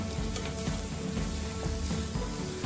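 Cut beans tipped into a pan of sizzling onions while cooking egg fried rice, giving a steady, close hiss of frying with faint stirring and no voices.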